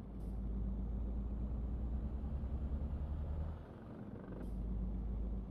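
A heavy truck in the Euro Truck Simulator 2 game rumbles with a deep, steady engine drone that briefly dips and returns, joined by faint creaks and hiss, with no talk.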